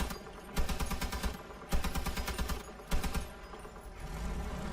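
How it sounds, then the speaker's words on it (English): Weapon fire in the vehicle combat game Crossout, three separate rapid bursts of automatic shots with short gaps between them, fairly close and moderately loud over a steady engine-like drone. "Now I'm going to shoot just the top of this."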